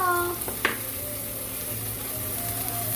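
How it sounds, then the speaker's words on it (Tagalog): Pork ribs fry for sinigang after garlic and onion are sautéed, giving a steady close hiss of sizzling oil with one brief clack of a utensil near the start and no speech. "Pagkatapos po yung gisa, maglalagay na po ako ng pork, buto-buto."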